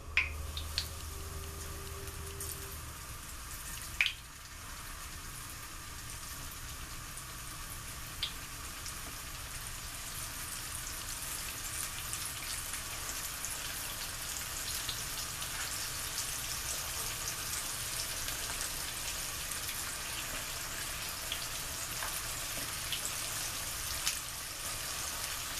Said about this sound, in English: Our oil is hot, so now we're going to fry our steak.